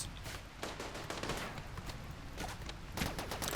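In the game Rimworld, a defensive turret fires at colonists in dense, rapid bursts of close gunfire. The shots crackle continuously, with a louder flurry near the end.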